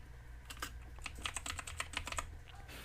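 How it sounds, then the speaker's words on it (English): Steady run of computer keyboard keystrokes, quick and fairly close, clattering on with no voice over them. "Under search, you just want to type in refund policy"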